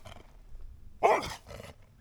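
A single short, harsh growling bark from an aggressive dog, fairly close, over faint background noise, followed by a softer rasp.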